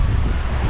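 Strong wind buffets the microphone on a riverside deck beside the Hooghly River at Diamond Harbour on a rainy day, a loud, continuous low rumble with gusty surges and no talk.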